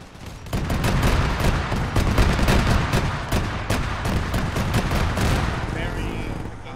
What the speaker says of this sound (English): I believe there's another cannon shooting at us